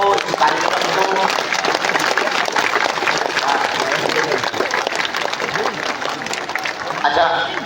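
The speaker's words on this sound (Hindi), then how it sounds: "जोरदार ताली बजा करके आज के उत्सव को, इस कार्यक्रम को" Loud, dense applause from a large crowd at a religious darbar gathering in Bageshwar, sustained steadily for several seconds with scattered voices mixed into the clapping.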